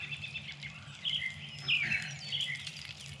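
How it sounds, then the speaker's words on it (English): Small songbirds trill and chirp at a distance at a campsite under maple trees, bright high phrases rising over a quiet outdoor background. "Now it's just a nice little songbirds, not those noisy grackles."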